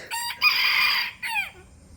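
A rooster crows loudly up close, one long call followed by a shorter trailing crow, with no other sounds around it.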